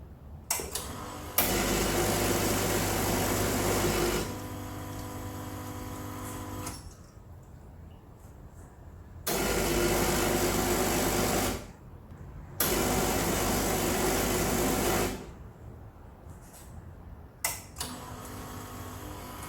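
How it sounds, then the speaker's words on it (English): A Lelit Elizabeth PL92T espresso machine's vibration pump switches on and off in turns, each run a loud, steady buzzing drone lasting a few seconds, with a click at the start and quieter stretches between. "how the normal pump, vibration pump, compared to the silent Marax pump"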